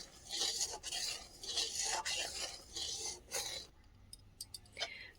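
Fried semolina is stirred into boiling milk in a pot, giving repeated scraping and rubbing strokes in a rhythmic pattern, fairly quiet and close, ending with a few light clinks.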